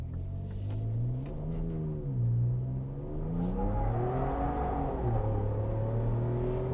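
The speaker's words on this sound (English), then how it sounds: "Tires were squealing pretty good there." A tuned Ford Ranger Raptor accelerating hard with traction control off, its engine climbing loudly through rising revs and a gear change, close and continuous, with tire squeal mixed into the roar.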